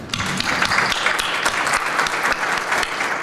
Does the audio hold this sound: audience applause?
yes